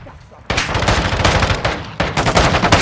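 Automatic weapons fire in bursts in a Call of Duty: Modern Warfare II multiplayer Domination match against bots, loud and close, with two long rapid volleys separated by a brief break.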